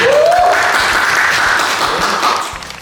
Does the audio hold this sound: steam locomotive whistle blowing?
no